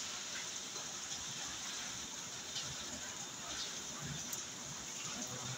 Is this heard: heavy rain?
yes